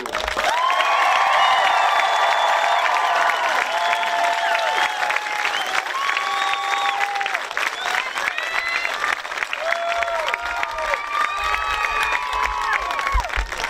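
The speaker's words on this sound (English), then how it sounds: "Please join me in a round of applause for Walton Central School's newest alumni, the graduated class of 2022." High school graduation crowd applauds and cheers for the graduating class of 2022, a loud, sustained roar of clapping with whoops and shouts layered over it, continuing strongly throughout.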